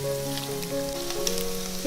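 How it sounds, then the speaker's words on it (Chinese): Luncheon meat slices frying in hot oil in a flat pan sizzle steadily with a crackling hiss, while a tuneful background melody plays throughout. "平底锅来加入适量油，油温热了，把午餐肉放下来煎香。"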